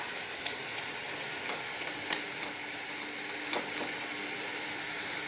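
Soft, steady sizzle of brahmi greens frying in a pan with sugar added, with faint scraping from stirring and a sharp clink partway through.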